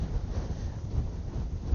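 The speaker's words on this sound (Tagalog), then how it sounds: "tapos sobrang lakas ng hangin" Strong wind on Mt. Gulugod Baboy roars and buffets the microphone in a continuous low rumble, with no voices.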